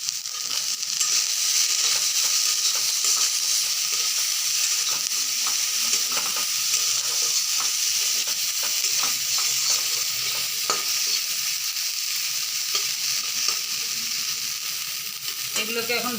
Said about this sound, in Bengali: এগুলোকে এখন ভালো করে ভেজে নিব।